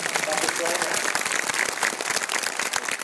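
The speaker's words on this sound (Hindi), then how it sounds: "इसलिए एक बार थोड़ा सा जोरदार वाली ताली बजा लीजिए।" Audience clapping loudly during a motivational program, a steady dense burst of many hands applauding throughout, with a voice faintly mixed in.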